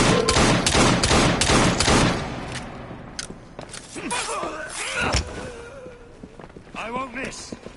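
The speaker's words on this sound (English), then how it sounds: "Ready to fire!" Rapid gunfire bursts from Assassin's Creed Syndicate ring out loud and close for the first two seconds, then fade into scattered shots, scuffling footsteps and grunting voices, with game characters shouting over the action.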